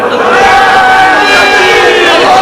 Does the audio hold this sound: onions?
no